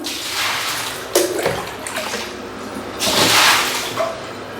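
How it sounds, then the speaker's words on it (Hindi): Water sloshing and splashing in a tub as one or two mugs of water are scooped out for a hip bath, with a couple of louder scooping splashes and trickling between them, fairly close. "1-2 मग पानी इसमें से निकाल दें।"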